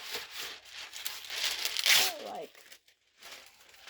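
Wax paper rips and crinkles in a sharp, close tearing burst lasting a couple of seconds, followed by a short silence and a soft rustle.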